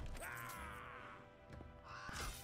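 A crow gives a couple of cawing calls in the video game Wartile, fairly faint, with no talk over it.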